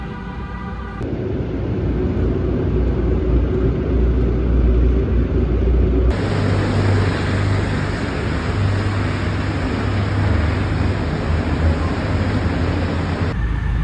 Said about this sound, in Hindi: यहाँ पे ना गाड़ियों की बहुत ही आवाज़ आ रही है